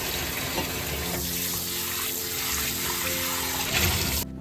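A kitchen sink tap runs hard while dishes are washed, a loud steady rush of water with faint clinks of crockery beneath, cutting off abruptly near the end.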